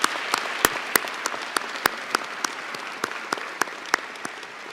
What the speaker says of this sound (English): Graduates, please join me in a round of applause to thank our faculty and staff for their dedication and commitment to learner success.